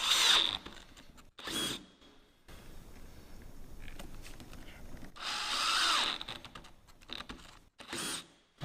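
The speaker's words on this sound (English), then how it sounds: "I'll drill out all 4 holes." A power drill bores 5/8-inch holes for fastener plugs while attaching a wooden beam to a post, with several bursts of drilling that start and stop, close and loud, separated by quieter handling noise and pauses.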